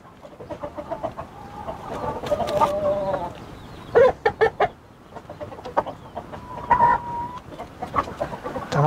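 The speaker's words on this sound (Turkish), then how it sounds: "Bakın işte bir horoz kavgası." Three roosters fight among chickens in an outdoor coop, with bursts of flapping and squawks over steady clucking, loud and close in irregular clusters.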